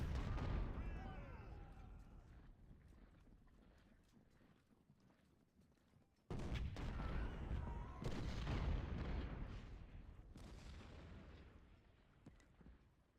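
Civil War artillery booms and rolls continuously across a Gettysburg battlefield in Ultimate General: Civil War, dense and rumbling with a fresh loud salvo midway, the distant guns blending into a steady roar.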